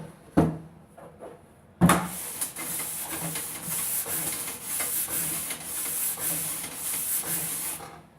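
A copper or brass brush scrubs wax off a surface in quick, steady back-and-forth strokes, producing a close, bristly hissing rasp after a couple of sharp knocks at the start.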